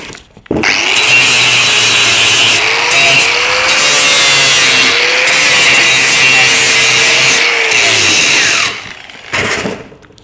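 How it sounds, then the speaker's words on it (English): Loud, continuous grinding hiss of a sanding disc notching a steel tube for a GT40 chassis, running steadily for about eight seconds with a whining motor tone before spinning down with a few short bursts. "Switch over to the sanding disc."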